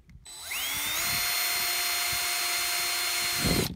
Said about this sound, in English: So I'm going to drill one through here just to show you.